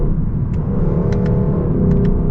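A 2022 Lexus LC 500's V8 engine runs close by, a loud, continuous low rumble with a steady throaty drone, with a few faint clicks over the top.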